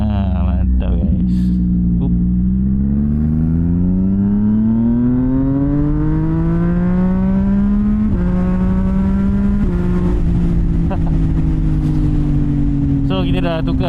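A 2025 CFMoto 675 NK motorcycle fitted with an aftermarket exhaust revs loudly up close, its engine note climbing in pitch over several seconds, dipping briefly and rising again in a sustained, throaty drone.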